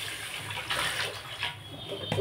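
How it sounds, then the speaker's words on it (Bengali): Water is poured into a hot frying pan in a home kitchen and fills the pan with a steady, close hiss and splash. The sound lasts about two seconds with no voices. "খুব বেশি ভাজবো না। দিয়ে দেবো জল"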